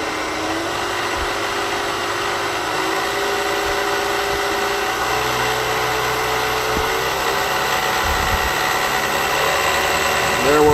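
A CNC three-axis vertical mill's spindle head hums steadily at speed, a constant mid-pitched mechanical whine with a few faint clunks, loud and close throughout.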